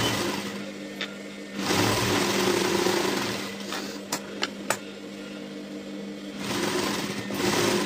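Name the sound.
sewing machine stitching a blouse piece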